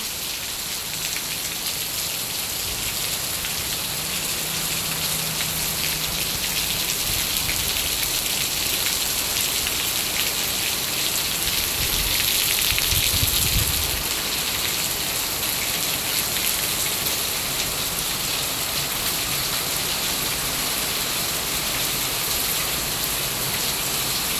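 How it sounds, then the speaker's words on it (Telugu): Heavy rain pours steadily around a family home whose newly built roof leaks, a dense, continuous roar that swells slightly midway and never lets up, with no talking. "అసలుకి ఎంత వాన పడుతుంది"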